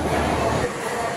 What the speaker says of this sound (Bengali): পদাতিক এক্সপ্রেস চলে এসছে, গাড়ি ঢুকছে স্টেশনে।